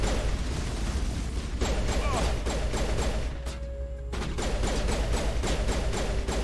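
Rapid gunfire and impacts from a combat fight in Mass Effect Legendary Edition, a dense sustained barrage of bursts with a short lull midway before the shooting resumes.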